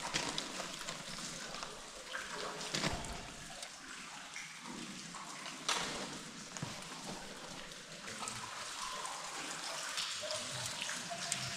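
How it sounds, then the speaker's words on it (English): Water flows and trickles through the disused Burdale railway tunnel, cut through limestone, as a steady hiss with scattered drips and splashes echoing faintly in the enclosed space. "there's a fair amount of water flowing through this tunnel"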